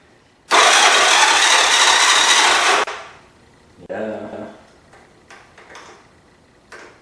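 A Honda ATC 125M three-wheeler engine cranks for about two seconds in a loud, rhythmic burst, then stops. Softer handling noises and knocks follow.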